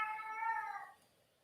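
A domestic cat lets out one long, loud, harmonic meow at close range, lasting nearly a second before fading into quiet room tone.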